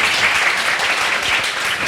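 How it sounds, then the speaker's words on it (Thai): Steady, dense applause from an audience at a guest speaker's web programming lecture, filling the room loudly and evenly throughout with no speech over it. "รบกวนช่วยขอเสียงปรบมือให้กับวิทยากรเราวันนี้นิดหนึ่งนะครับ"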